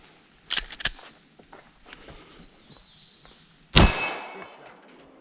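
Gunfire striking a steel target during outdoor target practice: a couple of quick sharp reports early, then one loud shot with a ringing metallic clang that trails off.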